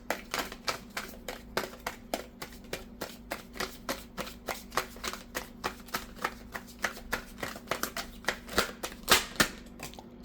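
Tarot cards are shuffled by hand in a steady run of crisp riffling slaps, about two or three per second, close and fairly quiet with no talk over them.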